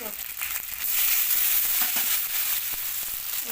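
Chopped tomato hits a hot pan already holding ginger paste, giving a steady, fairly quiet sizzling hiss with a few crackles as it fries, with no voices present.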